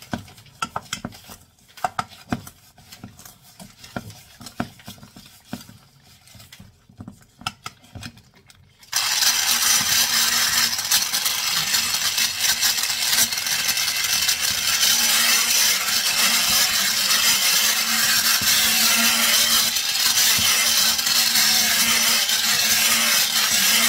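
An electric mixer on its turbo setting in a home kitchen kicks in after several seconds of light clattering and then roars steadily, a loud continuous whirr that holds to the end.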